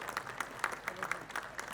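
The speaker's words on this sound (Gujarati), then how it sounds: "જેટલી ઉંમર નાની એટલી તાળીઓનો વરસાદ આપનો વધવો જોઈએ" An audience at a skill award ceremony claps in a light, scattered round of applause, fairly faint and distant, with distinct individual claps.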